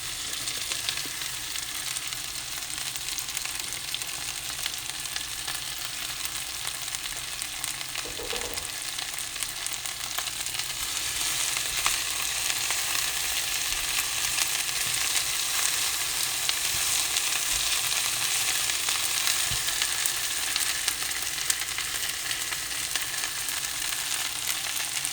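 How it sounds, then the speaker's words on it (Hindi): Okra fries in hot oil in a pan, a steady, fairly loud sizzle that continues without a break, with faint stirring clicks and no talk. "इसी के अंदर में अब हम भिंडी डाल देंगे।"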